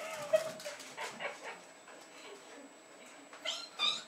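Two Jack Russell terriers excitedly bark, yip and whimper indoors while greeting someone arriving home, sharp bursts scattered across the clip at moderate loudness amid household movement.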